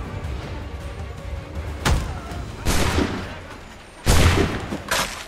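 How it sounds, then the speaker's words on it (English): Assassin's Creed 3 Remastered gunfire: sharp, loud shot blasts ring out at irregular intervals, about four distinct bursts over a low rumbling background. "Who is shooting?"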